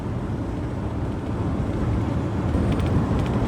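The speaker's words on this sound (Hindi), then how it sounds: "यहाँ पे देखो वाइब्रेशंस, आपको यहाँ से समझ आएगी कितनी एक्सट्रीम वाइब्रेशंस कर रही है गाड़ी फिलहाल" A Ford Endeavour SUV that shakes heavily while driving produces a dense, steady low rumble from the cabin, loud and continuous, with no speech.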